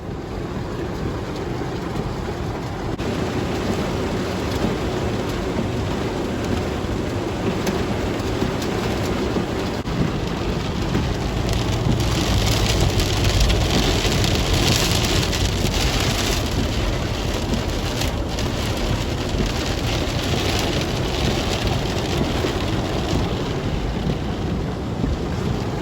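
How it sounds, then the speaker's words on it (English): Torrential nighttime rain in north Texas pours in a dense, continuous roar that stays loud and steady throughout, with no talking. "Looks like it's a pretty rainy one tonight"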